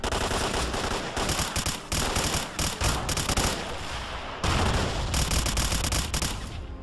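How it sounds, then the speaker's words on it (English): Rapid gunfire from the video game STALKER: Clear Sky during a firefight near a pillbox, loud dense bursts of automatic shots packed together with brief gaps, continuous across the whole stretch. "I don't like him shooting me in the back."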